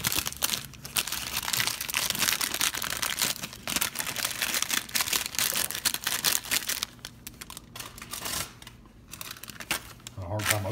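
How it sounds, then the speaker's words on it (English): Crinkly plastic packaging from a diet food kit rustles and crackles continuously as it is pulled open close by, with short pauses and a soft thump at the end. "Had a hard time opening the package."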